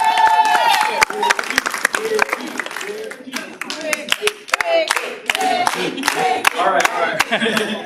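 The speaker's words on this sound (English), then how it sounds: "a little round of applause for Ricky" Audience at a multicultural engineering and STEM dinner breaks into clapping for Ricky, dense sharp handclaps running throughout with scattered cheers, while a voice briefly speaks over it.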